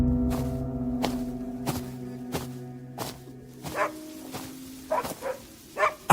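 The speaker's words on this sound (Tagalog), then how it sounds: "Patuloy sa pagtahol ang aso hanggang sa pumunta ito sa isang masukal na parte." A dog barks repeatedly at a steady rhythm, evenly spaced sharp woofs over a faint tonal background, then a few more scattered barks near the end.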